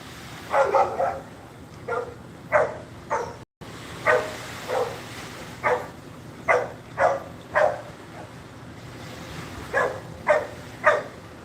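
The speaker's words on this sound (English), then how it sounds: "Dog barking." A dog barks outdoors, some distance below, in a series of about a dozen evenly spaced single barks and short yips. The barks are fairly clear over a quiet background, with no talking.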